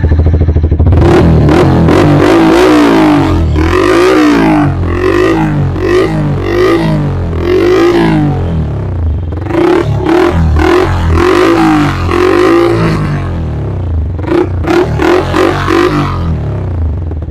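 A Yamaha R15 V4 motorcycle fitted with a basic low-range exhaust revs over and over, with loud, close throttle blips rising and falling in quick bursts, a short pause, then more sharp revs.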